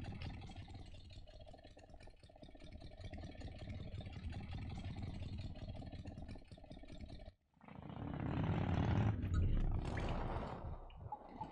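Motorcycle engine idling in the video game Full Throttle, a steady low rumble that cuts out briefly and then swells louder before settling.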